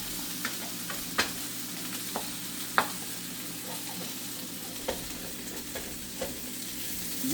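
Breakfast poutine potatoes fry in a pan with a steady, quiet sizzle, broken by sharp clicks and taps of a utensil stirring and scraping at irregular intervals.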